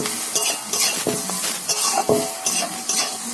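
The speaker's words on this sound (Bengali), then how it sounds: "দিয়ে ভালো করে নাড়িয়ে নাড়িয়ে আমি ভেজে নেবো।" Vegetables, gourd peel and cabbage with a little sugar, fried in a pan while being stirred: a continuous sizzle with repeated scraping and clinking of a utensil against the pan, close and moderately loud, with no talking.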